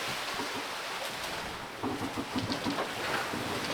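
Ocean waves wash around a sailing catamaran in a steady broadband rush with wind noise, swelling louder partway through as the sea gets rougher, with no talking.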